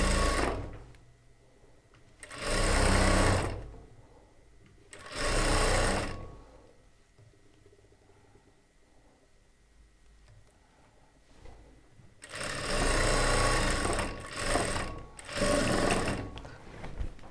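A sewing machine stitches a churidar top in four loud bursts of running, with quiet pauses between them and the last stretch lasting longest.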